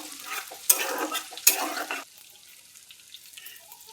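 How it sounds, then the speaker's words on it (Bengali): Ginger and garlic stirred and fried in a pan for homemade fish pickle, scraping spatula strokes over a soft sizzle, two sharper clatters of utensil on pan, then a quieter fading sizzle. "রসুনটা দিয়েও হালকা করে একটু নেড়ে চেড়ে ভেজে নেব।"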